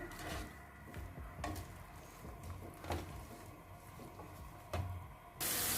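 Carrots being stirred in a frying pan for veg fried rice, a steady low sizzle broken by several soft scraping stirs and light clinks of the utensil against the pan, with no talk.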